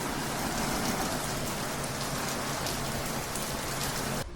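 Steady rain falls with a dense, even hiss of drops on surfaces, close and continuous for a few seconds, with no voices.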